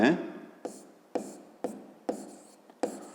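Pen or chalk writing segment lengths by hand for a fifth-grade geometry exercise, heard as a series of five or six short scratchy strokes about half a second apart, close and fairly quiet, with no talking.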